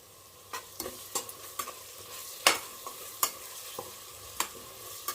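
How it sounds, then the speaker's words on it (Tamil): Mint leaves for chicken biryani sautéing in a pan, a soft steady sizzle broken by about a dozen sharp scraping stirs at irregular intervals, close and alone with no voices. "1 கைப்பிடி புதினா எடுத்து போட்டு வதக்கிக்கோங்க"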